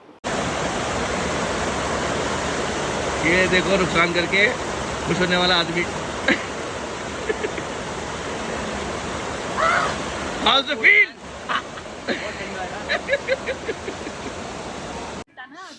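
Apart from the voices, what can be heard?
rushing water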